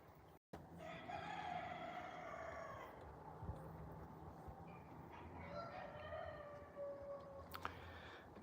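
A rooster crows in a chicken pen on a cold winter farm, a long drawn-out call near the start and a second crow toward the end, rising over steady outdoor background noise.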